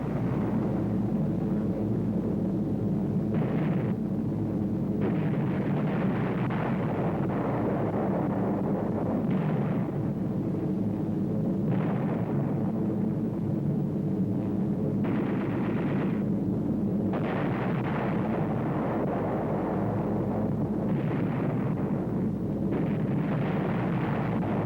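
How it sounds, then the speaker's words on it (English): Delayed-action parachute bombs exploding in a wartime setting, heard as a long, dense rumble of deep booms and blasts that rise and fall in bursts over constant low noise. "delayed action bombs."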